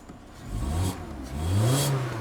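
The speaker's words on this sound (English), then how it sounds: "It's revving up all right for a car that's probably, as I say, been stood for so long." A cheap, gold Jaguar F-Pace that had been standing unused for a long time revs twice, each rise swelling and falling back, moderately close and fairly quiet, with no talk over it.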